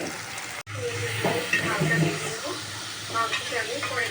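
Onion with ginger and garlic paste and salt frying in oil, a close, continuous sizzle with stirring scrapes, one brief dropout early on, while a voice talks at points.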